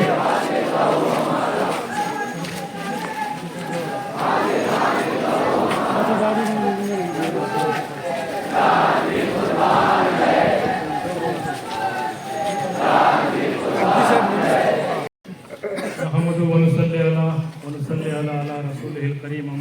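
A crowd at a mourning gathering chants religious slogans in loud, rhythmic unison, the massed voices rising and falling for about fifteen seconds before a sudden cut to a smaller, clearer group of voices.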